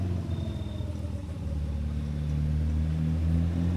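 A battered car drives in the State of Decay video game, its engine a steady low rumble with a droning harmonic hum that swells slightly partway through, heard alone without speech.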